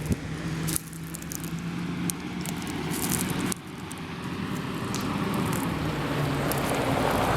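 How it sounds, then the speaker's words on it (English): A truck rolls past a garden on a summer day, a steady moderate roar of engine and tyre noise that builds over several seconds, with wind or rustling mixed in and no voices. "There's a truck coming, so pardon the noise."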